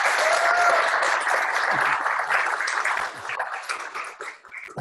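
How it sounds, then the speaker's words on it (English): A crowd gives warm, dense applause to welcome speaker Brian Swimme at an Intersect event, loud and continuous before thinning out toward the end. "thank you for that warm applause"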